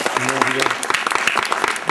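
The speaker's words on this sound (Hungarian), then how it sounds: "egy tapsot kérünk" Brief burst of applause for a child in costume at a Purim party, quick uneven clapping from a small group with voices talking over it.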